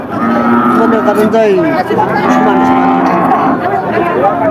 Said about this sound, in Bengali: এই যে গরুটা দর্শক চার দাঁতের গরু